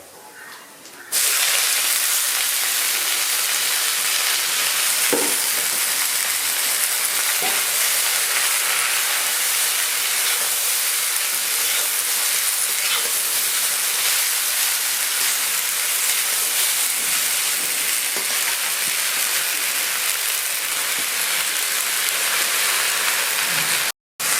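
Loud, steady sizzling and hissing of spinach frying in a hot wok, a continuous crackling spatter that runs almost without a break.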